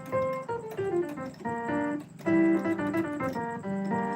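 A piano plays a bouncy, syncopated groove of chords and short bass notes, moderately quiet and steady for a few seconds.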